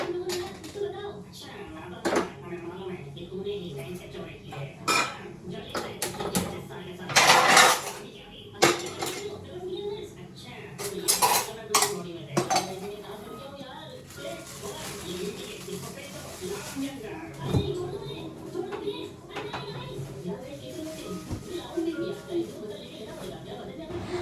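Metal utensils and dishes clatter and clink in irregular bursts around a kitchen, with a few sharper clanks standing out and soft background noise between.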